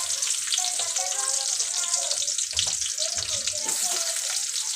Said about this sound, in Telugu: ఆవాలు, జీలకర్ర, కరివేపాకు బాగా ఎర్రగా వచ్చేటట్లా వేయించుకోవాలి.